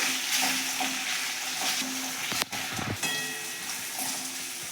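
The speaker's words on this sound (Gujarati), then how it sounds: "હવે આપણે આને બે મિનિટ ધીમા ગેસે સતડાવા દઈશું" Carrots, potatoes and cabbage sautéing in a pan over low heat, a steady close sizzle with a brief stir-like shuffle midway and no talk.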